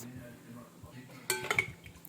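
A spoon stirs yeast into sugar and salt water in a bowl, giving a short cluster of bright clinks against the bowl after a quiet, murmuring stretch.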